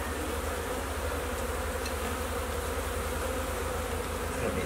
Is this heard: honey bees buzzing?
yes